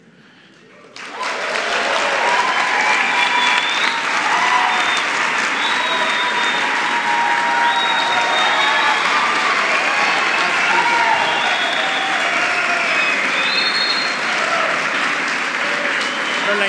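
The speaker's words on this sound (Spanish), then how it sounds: "muy bien merecido el aplauso, la ovación al señor Bremer" An audience gives a sustained ovation at a public event, bursting into loud, dense applause that holds steady after a quiet start.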